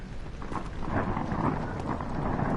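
Steady rain ambience in the Rainy Hall level of the horror game Amnesia: The Dark Descent, a dense continuous wash of falling water with faint low rumbles underneath, holding an even loudness throughout.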